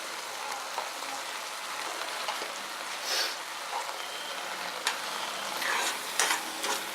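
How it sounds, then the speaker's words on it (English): Coconut puran poli filling with cardamom powder stirred in a pan, a soft continuous sizzle with scattered scraping and clicking strokes of the spoon. "Let's mix this."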